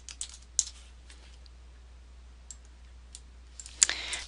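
Faint, sparse keystrokes on a computer keyboard, scattered clicks with a short burst of quicker typing at the end, close by in a quiet room.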